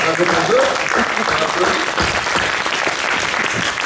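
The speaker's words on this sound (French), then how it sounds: "On applaudit tous les Quimperloises et toutes les Quimperlois." An audience at a poetry festival performance in Quimperlé bursts into sustained, dense applause, close and loud, with a voice briefly audible over the clapping.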